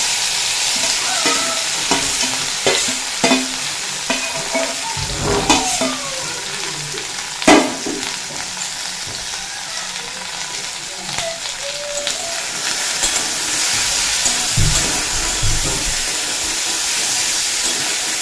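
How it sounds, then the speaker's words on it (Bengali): Okra, along with whole cumin seeds and dried chilli, fries in hot oil with a constant crackling sizzle and hiss, punctuated by the clatter and scrape of a spoon stirring in the pan. "গোটা জিরে আর শুকনো লঙ্কা যখন খুব ভালোভাবে ভাজা হয়ে যাবে তখন দিয়ে দেব মাখিয়ে রাখা ভেন্ডি"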